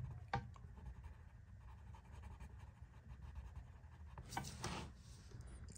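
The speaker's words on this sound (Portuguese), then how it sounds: "vamos colorir agora o fim." Derwent Academy colored pencils scratch across paper in short, faint, repeated strokes while a cartoon drawing is being colored, with a few sharper scrapes standing out near the start and the end.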